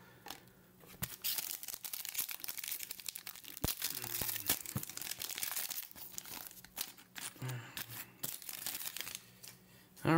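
Foil wrappers of 2023-2024 Select Basketball mega box card packs crinkle and tear in repeated bursts, close and fairly loud, with brief sharp rips between stretches of rustling and no talk.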